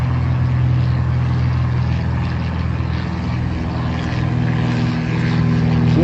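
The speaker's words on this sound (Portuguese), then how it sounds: "vocês podem ter assistido talvez esse avião passando aí do Síndico Não é Dono." A low propeller airplane drones steadily over a beach in Rio de Janeiro, a loud, sustained engine hum with a deep harmonic rumble that holds throughout.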